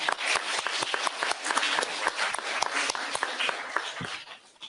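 Audience applause at a neuropolitics lecture, dense steady clapping from a crowd filling the room for several seconds, then tapering off slightly at the end.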